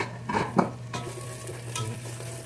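Onions sauté in a pot for pompano sinigang, a soft close sizzle broken by a few sharp stirring scrapes and clinks of a utensil against the pot, with no talking.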